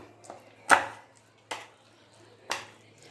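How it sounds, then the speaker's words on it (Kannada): Chopped vegetables being mixed with tomato ketchup in a bowl, heard as three separate sharp knocks of a utensil against the bowl with quiet pauses between them. "ಟೊಮೆಟೊ ಕೆಚಪ್ನ ಹಾಕೋಬಿಡೋಣ ಈಗ ಫುಲ್ಲು ಮಿಕ್ಸ್ ಮಾಡ್ಕೊಂಬಿಡೋಣ"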